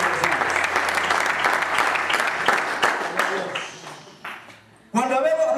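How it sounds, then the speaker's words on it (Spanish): A church congregation breaks into sustained applause for the Lord during a service, steady and full for several seconds before fading, then a voice speaks over the room. "Denle un fuerte aplauso al Señor"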